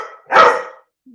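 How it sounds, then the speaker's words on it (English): A dog gives one loud, close bark, then brief silence. "I think you can hear dog barking as well"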